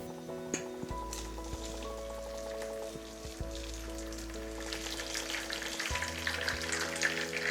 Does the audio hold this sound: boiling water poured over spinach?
yes